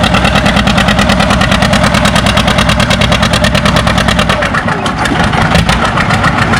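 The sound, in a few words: John Deere 730 pulling tractor engine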